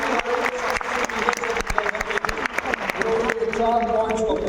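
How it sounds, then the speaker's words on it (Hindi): Loud applause from an audience at a business meeting in Patna, dense clapping sustained throughout with crowd noise and some voices underneath, swelling again near the end. "जोरदार तालियां।"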